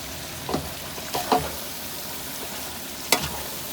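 Onions and spices frying together in a pan, an even low sizzle punctuated by a few sharp scrapes and knocks of stirring, close by and without talk.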